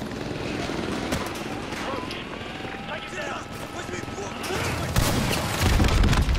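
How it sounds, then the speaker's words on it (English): A helicopter's rotor thrum churns under dense Call of Duty: Modern Warfare 2 campaign noise with bursts of gunfire, then swells louder near the end. "Enemy helicopter has been neutralized."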